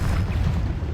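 Bombarda spell explosion in Hogwarts Legacy, a loud, deep, sustained rumbling boom filling the whole short moment.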